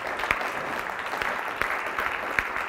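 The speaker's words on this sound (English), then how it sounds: "Another spontaneous applause," Audience applause for a panel at a sports anti-doping conference, steady crowd clapping at moderate loudness with a few sharper individual claps standing out near the listener.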